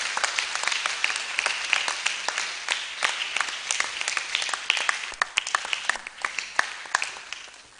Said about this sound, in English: Let us clap for them once again.